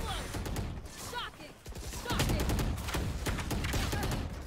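Video game gunfire crackles in quick, dense bursts of shots, close and sharp. The volleys come in two clusters split by a brief lull.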